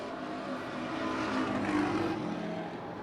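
A race car on the Portland street-stock track, the No. 84, runs with a rough, skipping engine note; the engine drone builds slightly and then eases back, mixed with surrounding track noise.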